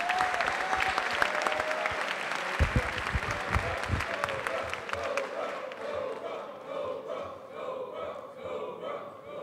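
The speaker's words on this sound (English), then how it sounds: "Y'all give them a round of applause." Crowd at a Mississippi Boys State gathering applauding the American Legion, sustained loud clapping from a large audience in a hall with scattered cheers, gradually thinning toward the end.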